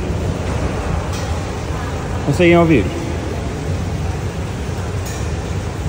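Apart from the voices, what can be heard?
water drops hitting cymbal-like plates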